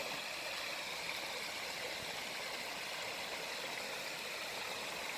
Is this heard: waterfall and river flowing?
yes